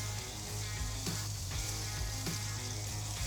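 Thai-style pork shoulder skewers sizzling on a grill, a dense continuous crackle of fat spattering with occasional sharper pops, close and steady.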